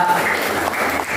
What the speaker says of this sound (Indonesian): Tepuk tangan dulu buat Mira.